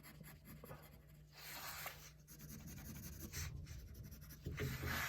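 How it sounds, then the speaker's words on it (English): Pencil shading on paper during a lettering drawing, a soft continuous scratchy rubbing in quiet bursts with brief pauses, close and faint, with no talk. "Just by doing the shading with your pencil, you can get a lot of tones"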